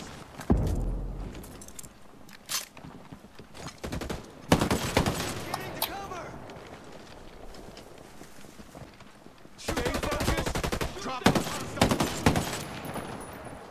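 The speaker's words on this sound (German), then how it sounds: "ich denke, jetzt nehme ich die Gatling." A Gatling gun fires in the Ghost Recon Breakpoint video game: scattered shots come first, then two long, loud bursts of rapid, dense gunfire, each lasting a few seconds.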